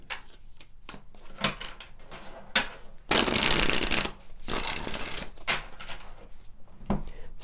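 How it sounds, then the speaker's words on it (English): Tarot cards are handled and shuffled, starting with scattered soft taps and flicks, then a long rough burst of riffling and sliding cards before a few more close card snaps. "Pull some additional tarot cards"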